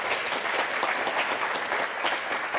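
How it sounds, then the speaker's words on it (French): A studio audience at a French television word game applauds the male contestants with dense, even clapping that holds steady for the whole stretch, no voices on top. "Bravo, messieurs, on vous applaudit très fort"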